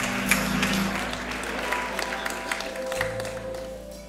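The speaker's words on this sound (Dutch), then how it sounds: "Dames en heren, mag ik een hartelijk applaus" A hall audience at a Dutch late-night show applauds a rapper, with steady, dense clapping that holds loud and continuous throughout.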